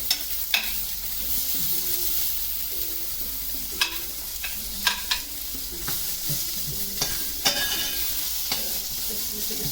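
Pink onion sautés on low heat in a pan: a steady soft sizzle runs throughout, broken by a handful of sharp scraping and clicking stirs from a utensil, with no talking.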